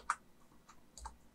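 A few faint, sparse clicks of keys being pressed on a computer keyboard while a command is typed, quiet and isolated with pauses between taps.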